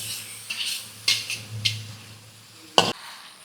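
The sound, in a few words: stirring chicken with turmeric in a cooking pan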